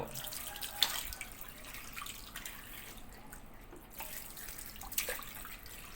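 Water is poured into a PVC pipe during a pipe capacity comparison, making a faint, continuous soft trickle with a few small splashes.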